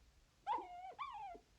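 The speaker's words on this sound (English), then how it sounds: "Sounds like Daisy Bell, the miller's dog." A dog howls at night in two drawn-out, wavering cries, each rising then sliding down, heard alone and fairly faint against a quiet background.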